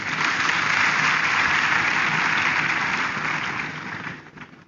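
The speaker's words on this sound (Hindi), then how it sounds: "अब जोरदार ताली बजाइए इनके लिए" Dense, steady applause from a large audience in a hall at a business gathering, loud and continuous, thinning out near the end.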